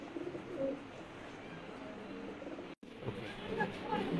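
Giribaj and racer pigeons coo softly and repeatedly at close range, in a steady murmuring backdrop with a brief gap near the middle; the cooing is fairly low and continuous.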